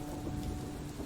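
Soft rain falls on a night beside a Scottish loch, a low, steady wash with a faint rumble underneath, continuous and fairly quiet with nothing else breaking through.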